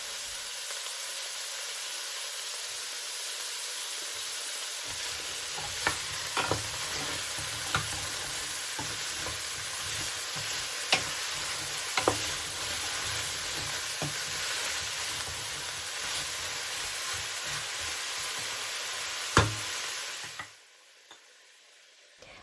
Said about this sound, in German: Jetzt geben wir das Gemüse hinzu, erstmal alles bis auf die Tomaten und braten das Ganze an